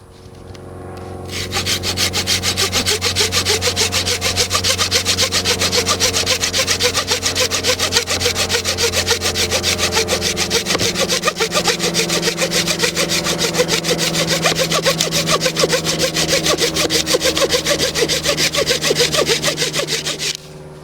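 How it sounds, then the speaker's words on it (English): A Gardenline folding saw from Aldi cuts through wood in fast, steady rhythmic strokes, a loud rasping back-and-forth that runs continuously for nearly twenty seconds, close and alone. "I got this garden line folding saw from Aldi's"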